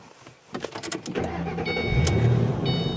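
A warmed-up 2007 Ford Mustang GT engine cranks briefly, catches and starts, then settles into a steady idle, heard up close with some clicks and rattles.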